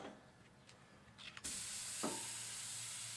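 A tomahawk ribeye hits the hot grates of a Masterbuilt Gravity Series 560 charcoal grill, starting a sudden sharp sizzle that holds steady and close, with no talking.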